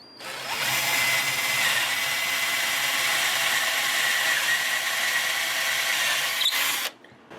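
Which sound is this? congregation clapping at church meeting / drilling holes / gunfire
drilling holes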